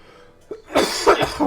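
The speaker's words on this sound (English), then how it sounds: "Still got my cough" A person coughs several times in quick succession, harsh and close, after a brief quiet lead-in.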